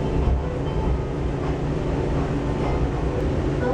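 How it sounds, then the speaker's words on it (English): A Las Vegas tram between Bellagio and Aria rolls along with a steady, broadband rumble and rushing noise, continuous and fairly loud throughout. "So I'm getting ready to get on the tram from Bellagio to Aria."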